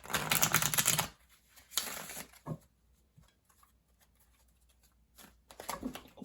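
Tarot and oracle cards shuffle in crisp riffling bursts, then several slip loose and scatter with quick papery flicks and taps, close and fairly quiet between pauses.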